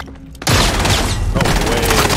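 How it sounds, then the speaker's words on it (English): Dense, loud bursts of rifle and machine-gun fire with booming impacts in a World War II shooter game, starting abruptly after a quieter lead-in and continuing steadily. "I'm under fire."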